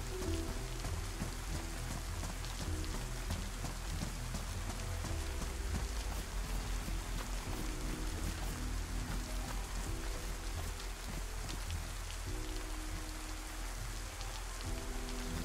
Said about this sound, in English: May just be the rain.